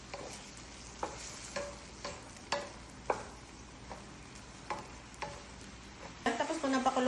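A rice mixture is stirred and fried in a pan, with sharp, regular scraping knocks of a utensil about every half second over a soft sizzle that swells louder at the end.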